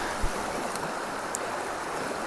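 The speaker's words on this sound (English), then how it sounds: "It sure is a pretty river." A pretty river flows close by, its steady broadband rush constant and unbroken with no voices over it.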